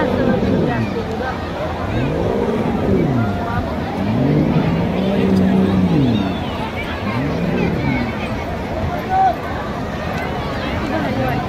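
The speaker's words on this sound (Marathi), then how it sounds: "चालली बोट आतमध्ये." A boat heads out to sea off Juhu beach in Mumbai. Its engine rumbles in slow rising and falling swells over a constant wash of beach crowd noise, while people chat nearby.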